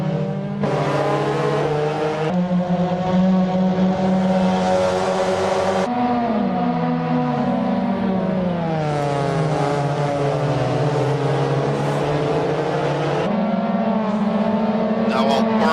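Several Mazda Miata race cars scream past on a street circuit, engines revving loudly and shifting through gears with rising and falling pitch, overlapping as they close up nose to tail; no commentary is heard over the engines.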